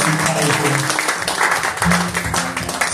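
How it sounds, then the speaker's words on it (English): An audience at a CD release party concert applauds, a dense wash of clapping throughout, with a voice speaking over the claps. "Can you give a round of applause for Uncle Henry Coppola Foundation for inviting me?"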